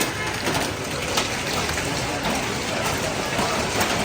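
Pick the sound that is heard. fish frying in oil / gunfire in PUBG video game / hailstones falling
hailstones falling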